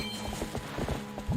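Horse hooves in the video game Twilight Princess, a quiet, regular clip-clop of several quick footfalls in a steady trotting rhythm, ending with a rising swoosh.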